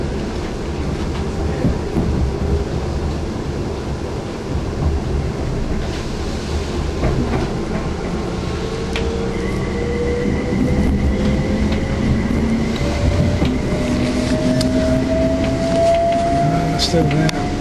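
A train runs steadily along the line near Stoke on Trent, heard from on board as a continuous rumble with faint rail clicks. A rising whine develops partway through, and voices murmur underneath.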